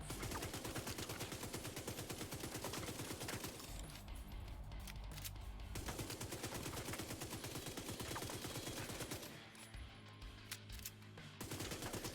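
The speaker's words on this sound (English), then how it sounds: "I'll shoot these chains off" Rapid automatic gunfire in The Division 2 rattles out in long sustained bursts as chains are shot off, loud and close, pausing briefly twice before resuming with scattered single cracks.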